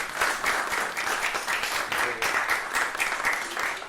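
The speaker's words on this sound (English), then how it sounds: "everybody please give yourselves a round of applause" Dense audience applause in a packed room, steady clapping with slight rhythmic surges, loud and close, with no clear talk over it.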